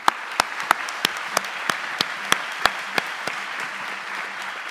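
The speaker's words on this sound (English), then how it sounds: "everybody deserves a big round of applause" Scattered hand claps rise from an audience at the 2017 Sullivan Renaissance awards ceremony, honoring volunteers, with sharp individual claps popping over a soft, steady bed of clapping.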